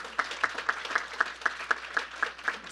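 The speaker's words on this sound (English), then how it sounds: "let's give him a round of applause." Audience at a political briefing applauding a congressman, a quick rhythmic patter of individual claps, fairly faint and steady, alone without talk.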